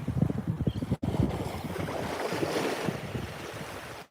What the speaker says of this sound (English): those look like little tiny happy waves